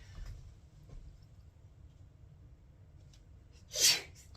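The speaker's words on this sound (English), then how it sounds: "Excuse me, sneeze there." One sharp sneeze bursts out near the end after several seconds of quiet room hum.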